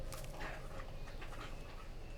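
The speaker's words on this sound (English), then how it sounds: "Apparently my dog's toenail itched. She's trying to chew it off." A dog named Chloe chews at an itchy toenail, with soft wet gnawing clicks and quick panting breaths close by and quiet, no voices present.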